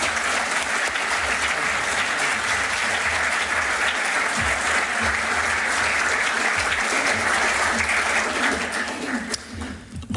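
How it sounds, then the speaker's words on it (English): A large audience bursts into sustained, loud applause to welcome National Security Advisor Jake Sullivan, steady clapping for about nine seconds before tapering off. "with your enthusiastic applause, please welcome the National Security Advisor, Jake Sullivan."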